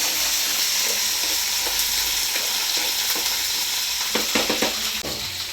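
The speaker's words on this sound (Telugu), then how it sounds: "ఇప్పుడైతే ఆనియన్స్ గోల్డెన్ బ్రౌన్ కలర్ వరకు ఫ్రై అయిపోయింది." Onions sizzling steadily in a hot pan of oil, a continuous bright frying hiss with occasional scraping stir strokes from a spatula near the end, no voices.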